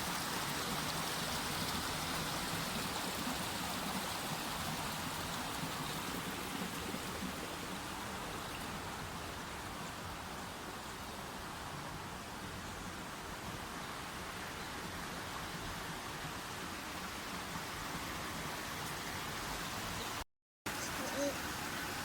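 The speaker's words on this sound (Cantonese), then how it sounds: "呢度深灣河仔都係山水嚟嘅，山水啊，天然嘅水啊。" A small mountain stream of natural spring water trickles through a valley, a soft, steady hiss of flowing water heard faintly and without a break, apart from a brief dropout near the end.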